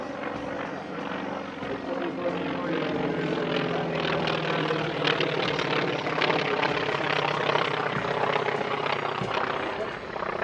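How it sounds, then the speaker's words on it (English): A T-28 Trojan propeller warbird flies at an airshow, its loud engine drone holding steady and close for the whole stretch with a rich, rumbling harmonic tone. "The T-28 Trojan is a popular warbird in France"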